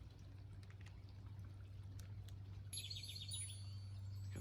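Bird chirping near its nest outdoors, a burst of high, rapid chirps starting partway through over a steady low hum and background noise.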